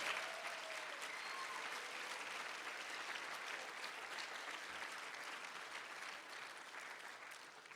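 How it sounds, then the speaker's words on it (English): A banquet crowd at a chamber of commerce awards dinner applauds its winners and nominees, a dense, even wash of clapping sustained for nearly eight seconds at a moderate distance. "So how about one more round of applause for all of our winners, all of our nominees?"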